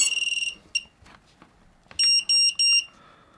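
A quadcopter powering up as its battery is plugged in: a quick run of short high beeps, a single chirp, then three longer loud tones after a pause, close and clear with no talking.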